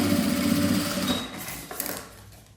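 Sewing machine running a topstitch seam on a unisex zippered pouch, a fast continuous mechanical whir close by that slows and fades toward the end.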